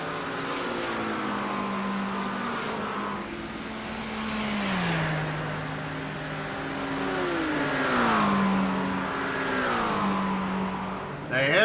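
GT3 race cars at Monza in a racing game, engines sweeping up and down through gears as they brake into the first chicane, a steady moderately loud drone with rising and falling pitch.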